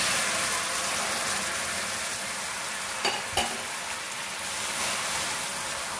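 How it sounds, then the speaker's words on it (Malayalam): Boiling water poured onto caramelized sugar for a homemade plum cake hisses in a loud, continuous sizzle, with a couple of sharp spits partway through. "ഇനി നമുക്കതിലേക്ക് തിളച്ച വെള്ളം ഒഴിച്ചു കൊടുക്കണം"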